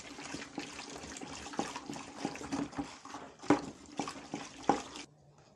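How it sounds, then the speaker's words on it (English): Homemade bleach mixture poured into a bucket, a close, uneven splashing and trickling of liquid with several louder gushes before it stops abruptly. "So after stirring, just pour this mixture into this bucket and continue your bleach production."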